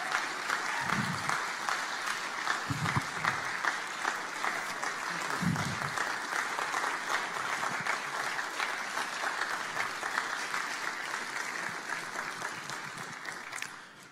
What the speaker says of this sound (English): give them another rousing round of applause.